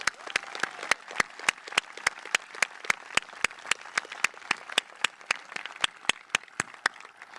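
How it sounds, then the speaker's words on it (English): A high school commencement crowd applauds a graduate whose name has just been read, a soft, distant patter of scattered clapping with sharp, evenly spaced clicks running through it. "Please feel free to applaud for each student."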